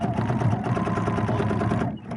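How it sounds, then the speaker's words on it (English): Straight-line quilting on a sewing machine: a continuous, close, loud mechanical whir of fast even stitches that eases slightly at the very end. "Thought I'd do a little straight line quilting today."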